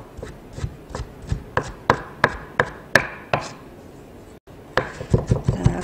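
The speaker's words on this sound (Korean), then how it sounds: "채썬 소고기는 모아서 다시 한번 잘게 만들어주세요." A knife chops shredded beef finely on a cutting board in a steady run of sharp close taps, with a brief pause before the chopping resumes faster.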